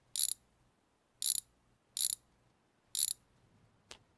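A ratchet wrench works on car flywheel bolts in a garage, giving four short, crisp bursts of clicking at fairly regular intervals and then one faint single click, close by in an otherwise quiet room.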